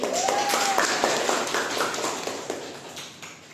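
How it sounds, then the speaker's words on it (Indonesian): A classroom gives applause after student discussion groups present, a dense patter of many hands clapping that fades gradually toward the end. "Kita berikan aplaus dulu."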